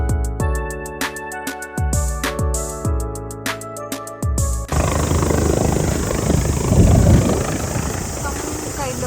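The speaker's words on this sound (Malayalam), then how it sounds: "ഹെലികോപ്റ്റർ ഒക്കെ വന്നിട്ടുണ്ട്. അതൊരു എയർ ആംബുലൻസ് ആയിരുന്നു." After a stretch of plucked tonal music cuts off, an air ambulance rescue helicopter near a mountain lookout gives a loud, steady rotor roar for the last few seconds.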